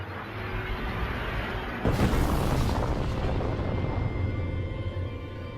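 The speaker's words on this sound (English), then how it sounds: "the universe and everything in it exploded into existence from a point smaller than an atom" Big Bang explosion effect: a sustained, roaring cosmic rumble that swells into a sudden loud, bright burst, then settles into a long, wide wash of low booming noise.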